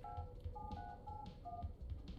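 Phone number being keyed in within the Watch Dogs Legion video game: a quick run of electronic dialing tones, several short beeps in an uneven rhythm, faint and close, over a low game background.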